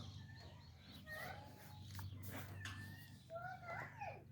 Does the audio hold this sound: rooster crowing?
yes